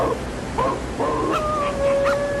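An owl hoots in a few drawn-out, wavering calls, fairly close and clear against quiet surroundings, with nobody speaking.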